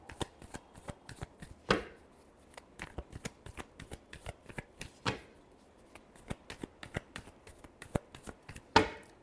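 Tarot cards are shuffled by hand up close, with a quick series of crisp riffling flicks and slaps in an uneven rhythm and a few louder snaps, all without speech.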